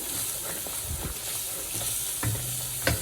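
Masala sautéed in oil on a low flame gives a soft, continuous sizzle, broken by repeated scraping and stirring strokes and a sharper clack near the end, with no one talking.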